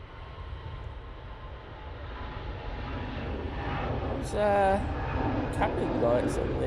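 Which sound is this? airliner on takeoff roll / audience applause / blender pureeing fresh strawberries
airliner on takeoff roll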